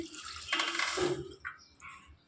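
Water poured into a pressure cooker with bitter gourd and toor dal, a brief close splash and trickle lasting about a second, then a few small drips and clinks.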